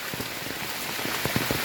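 Heavy monsoon rain pours down in Rajapur in the Konkan, a dense, steady hiss with sharper spattering drops, loud and close, with no voices.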